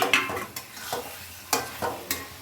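Potatoes fry in a pan while a utensil stirs them, producing a soft sizzle broken by about seven sharp scraping strokes in an uneven rhythm, close by and with no talking.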